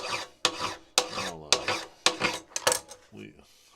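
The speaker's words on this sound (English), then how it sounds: "I don't know how many people want to watch me filing" Metal is filed by hand on a Japanese-made arbor press in a series of about seven loud, close rasping strokes, each fading before the next begins.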